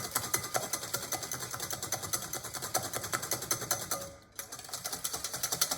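An electric mixer whips sugar and egg in a bowl for apple cake batter, a fast rattling motorized whir with rapid clicking pulses that dips briefly near the end before resuming, close and steady.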